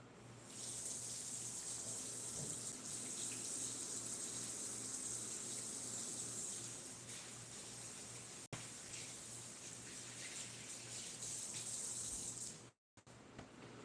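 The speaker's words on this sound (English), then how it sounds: "I really need to go wash my hands" Tap water runs steadily into a kitchen sink while hands are washed beneath it, a close, continuous splashing hiss that briefly cuts out near the end.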